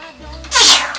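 A single sharp sneeze bursts out close by after a short quiet intake, loud and breathy, with a faint voice beneath it.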